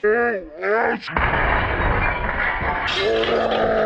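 A glass turtle tank shatters loudly, a sharp crash and crunch of breaking glass, preceded by a person's exclaiming voice and followed by lingering clatter.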